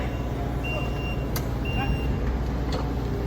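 A large skid steer backs up in a tight space on a retaining wall job site, its backup alarm beeping in a few clear, steady tones over a constant engine rumble.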